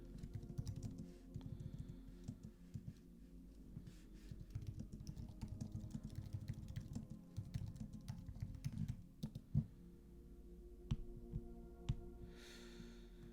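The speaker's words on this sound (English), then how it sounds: "Do some typing here." Computer keyboard typing on a gaming setup, a steady run of soft, close clicks and taps over low background rumble, with a few louder knocks near the end.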